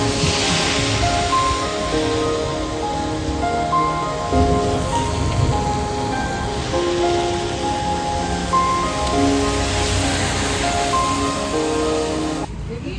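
Steady rain pouring outdoors, a continuous wash of drops that stays loud and even throughout, with faint voices and tonal background sounds mixed in beneath.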